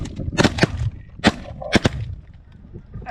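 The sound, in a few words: shotgun fired during goose hunt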